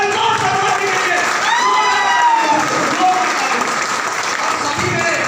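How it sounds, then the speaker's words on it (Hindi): A crowd at a gathering breaks into loud applause for guru Mr. Santosh Sharma. The clapping is dense and continuous, with cheers, whistles and shouted voices rising over it throughout. "एक बार मेरे गुरु के लिए जोरदार तालियां मिस्टर संतोष शर्मा जी के लिए।"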